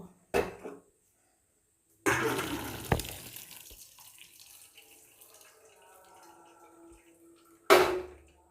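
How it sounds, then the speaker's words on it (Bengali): Water from boiled lentils pours and drains off, probably into a sink, a running, splashing flow that starts abruptly, trickles on steadily for several seconds, then cuts off with a sharp clatter near the end; no talk is heard. "এবার আমি এটার জল ঝরিয়ে নেব"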